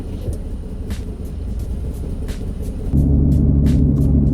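Interior of a cheap used luxury SUV driving slowly, a steady low engine and road rumble that steps up louder partway through, with faint ticking above it.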